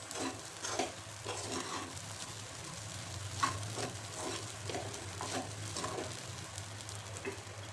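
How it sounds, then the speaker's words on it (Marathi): Sabudana khichdi stirred in a pan over full flame, a steady soft sizzle under repeated scraping strokes of a spoon, close and even throughout. "आता आपल्याला फुल फ्लेमवरती हलवून घ्यायचे."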